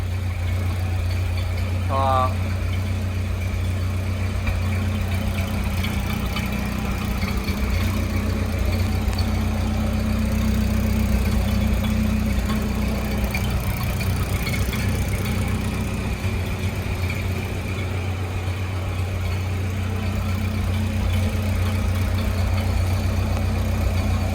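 A 1931 Ford Model A Tudor Sedan idles steadily throughout, a low, even engine drone with a brief higher-pitched chirp near the start and faint voices in the background.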